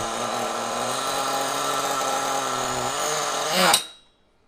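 A small RC car engine runs at a loud, constant high-pitched buzz, then strains and rises briefly before abruptly dying away into silence, as if bogging down while pressed against an obstacle.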